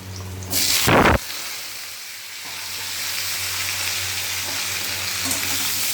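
Potatoes dropped into a hot pan with black cumin seeds, a loud burst of sizzling at the start that settles into a steady, close frying hiss.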